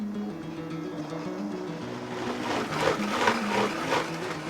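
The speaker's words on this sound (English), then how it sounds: "Top goes back on, and I'm going to blend it to a coarse puree." A kitchen blender grinds pitted, roughly chopped green olives into a coarse purée, its motor whirring steadily and then growing rougher and louder with churning pulses partway through, close by and with no talking.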